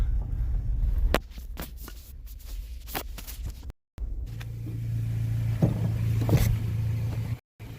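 A car pulls in and parks, its engine a low steady rumble with some nearby clunks and brief gaps, close by with no talking.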